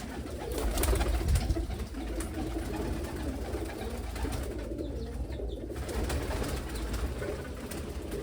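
Pigeons and their chicks coo steadily and close by, their low murmuring calls overlapping in a continuous, throaty burble with no talking.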